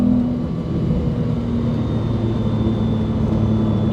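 A 2005 Porsche Boxster with a 4.3L R43 engine accelerates on a test drive, its loud, steady engine drone filling the cabin without a break and no one speaking.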